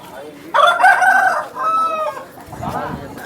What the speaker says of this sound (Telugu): చాలా టాప్ క్వాలిటీ కోడిపుంజులు అయితే ఉన్నాయి